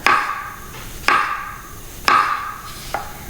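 Knife slicing vegetables on a cutting board for a high-protein vegan salad: four sharp, close chops land roughly a second apart, each followed by a brief ringing decay, with no voices present.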